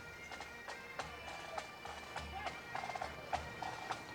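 Vancouver Police Mounted Squad horses walking in a street parade, their hooves clip-clopping in a steady uneven rhythm at a moderate distance over faint crowd ambience.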